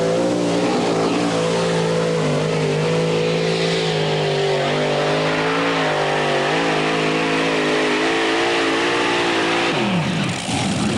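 A 7,200-pound modified pulling tractor roars through a full tractor-pull run, its loud, steady engine drone holding strong harmonics for the whole stretch, then the pitch falls and wavers near the end as the run winds down.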